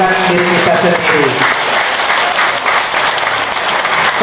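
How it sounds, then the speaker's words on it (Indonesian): Loud, dense hand clapping from an audience at a laughter yoga session in Bali, steady and sustained throughout with a few voices mixed in early on. "Tepuk tangannya yang keras ya, karena tangan ini bisa menyembuhkan diri kita sendiri."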